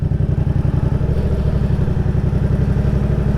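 A motorcycle pulling away uphill, its engine throbbing with a rapid low pulse that rises slightly as throttle is added and the clutch released, close and loud with no talking.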